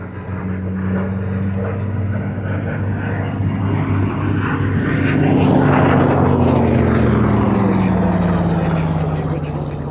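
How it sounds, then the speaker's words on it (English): A Yakovlev Yak-3 UTI fighter fitted with a 1200 horsepower Pratt & Whitney R1830 radial engine drones loudly and steadily at an air show, its engine tone rising and then sliding lower as it passes close by. "the dependable Pratt & Whitney R1830 radial of 1200 horsepower that equips this aeroplane"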